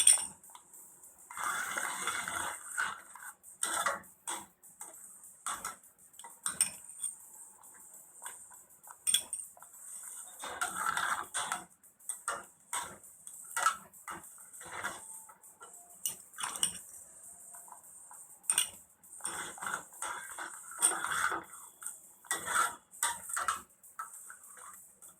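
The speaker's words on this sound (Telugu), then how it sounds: "ఇప్పుడు కొద్దిగా నెయ్యి వేసుకుంటూ కలుపుకుందాం" A pan of pineapple kesari is stirred as ghee is added, giving faint, intermittent scrapes and light metallic clinks of a spoon against the pan over a quiet background, with no talking.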